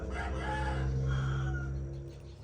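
Chickens kept in a coop at home on an evening garden plot cluck and crow steadily at middle distance, several birds calling over one another without any talk.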